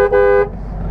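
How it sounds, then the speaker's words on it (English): A 2005 Ford F-350 turbo diesel pickup sounds its horn in one short, loud, close blast of about half a second, followed by a low background rumble. "Horn works."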